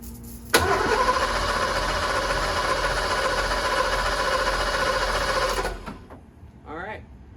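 A Ford Fox body Mustang engine cranks continuously on a new starter for about five seconds, a loud, even churning whir that cuts off abruptly, followed by a brief quieter sound.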